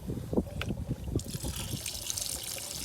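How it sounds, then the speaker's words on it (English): Water runs and trickles from a tap in a van kitchen, a soft, steady splashing stream with small drips, heard close with no talk. "I've had the water running for a bit"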